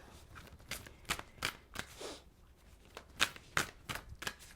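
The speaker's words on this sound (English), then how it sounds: "Let's shuffle the cards" A deck of oracle cards is shuffled by hand in a quiet room, giving a series of crisp riffling bursts and soft slaps in uneven rhythm, close and fairly faint.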